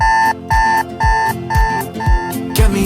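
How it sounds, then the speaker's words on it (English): An alarm clock rings in a steady repeating pattern of bright electronic beeps, about five short bursts close and loud, ending with a brief rustle. "Go set the alarm for the morning."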